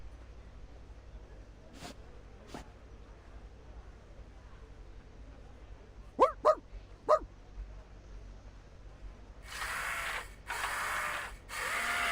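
A dog barks in the video game Reverse: 1999, with a few sharp yips early on and a quick cluster of barks in the middle, fairly faint over a quiet background, followed by bursts of broad mechanical noise.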